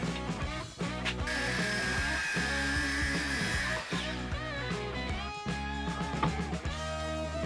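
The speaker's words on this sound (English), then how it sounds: "I repeated the groove cutting process on the clamping plate as well." Router cutting grooves in a clamping plate: a loud, close, continuous whining motor drone with shifting pitch and a brief dip early on, no voices.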